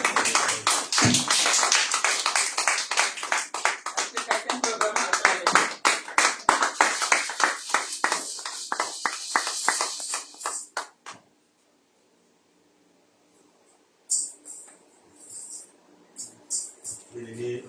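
Church congregation at a Sunday service claps in a loud, rapid, uneven burst that thins out and stops partway, followed by silence, then faint talk.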